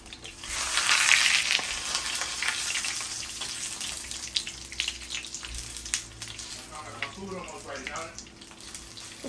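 Enchilada tortilla shell sizzling in a hot pan on lowered heat, a steady bright frying hiss that swells early and then settles, with faint kitchen clatter and a few brief watery bursts near the end.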